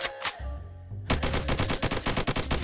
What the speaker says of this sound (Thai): ต้องยิงไปเรื่อยๆปืนเราค่อนข้างกากเพราะงั้นยิงยากหน่อยนะ